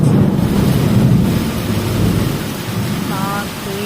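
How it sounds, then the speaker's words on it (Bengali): Heavy rain pours down during a lightning storm, a loud, steady wash of falling water with a deep, rolling rumble of thunder underneath, strongest early on. "এত বৃষ্টি হচ্ছে"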